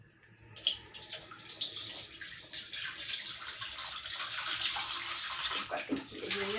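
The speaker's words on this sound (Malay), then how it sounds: "Buka air sekejap." A tap is opened in a bathroom and water gushes steadily into a basin, splashing and hissing, with a few clanks at the start and faint voices nearby.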